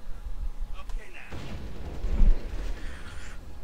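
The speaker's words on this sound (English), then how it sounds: "Those are explosions, Jack." Explosions in the video game Vampire the Masquerade, a low rumbling burst of booming blasts mixed with game audio over a few seconds.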